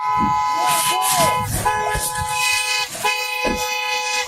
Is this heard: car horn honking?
yes